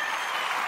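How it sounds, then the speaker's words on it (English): Short burst of loud audience applause and cheering, with dense, continuous clapping from a crowd filling the whole moment and no talk over it. "let's cheer again"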